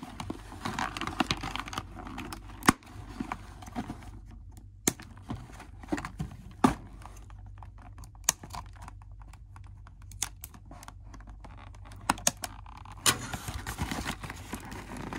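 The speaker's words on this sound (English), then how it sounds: "Now we'll go ahead and we'll cut the doll out of her packaging." Scissors snipping a Monster High Cleo DeNile doll free of its cardboard and plastic packaging, sharp clicks and cuts scattered irregularly over a quiet room, close and fairly faint with no talking.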